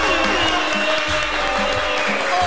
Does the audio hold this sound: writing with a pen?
no